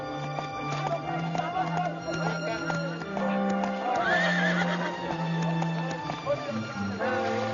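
Cartoon horse neighing and whinnying amid clip-clopping hooves, set against a steady music score throughout the whole stretch.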